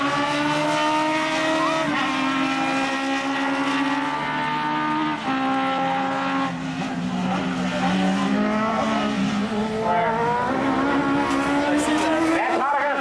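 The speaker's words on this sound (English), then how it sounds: "So Mike Pico half a lap away from a heat race win." Race cars at Tosa Raceway Park roar through the final lap of a heat race, engines droning loud and steady with rising and falling pitch as they pass, while an announcer talks over the noise throughout.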